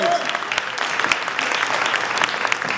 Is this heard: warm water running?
no